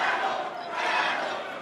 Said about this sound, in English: The Brookline crowd making a travel chant there